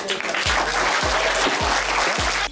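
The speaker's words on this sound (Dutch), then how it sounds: "Een applaus voor Daan." Applause for a child named Daan in a kids' vlog setting: steady, loud clapping and cheering throughout, with repeated low thumps pulsing underneath at a regular beat.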